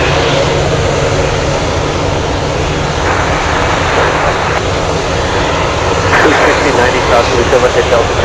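Propeller aircraft, two Metroliners and a Beechcraft 1900, hold at Anchorage airport, their engines droning loud and steady throughout with a faint rise near the end.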